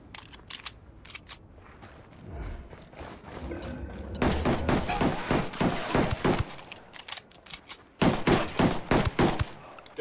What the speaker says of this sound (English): Shooting these fuckers.